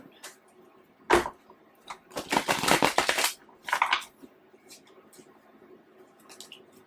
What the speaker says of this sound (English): One more shuffle, we said.